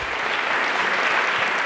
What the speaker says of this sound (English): Let's have a round of applause for Jeff Bezos